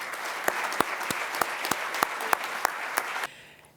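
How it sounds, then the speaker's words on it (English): A crowd at an annual meeting awards ceremony applauds steadily for several seconds, a dense patter of clapping with a few sharper claps standing out, then it abruptly fades. "let's give Judith a round of applause"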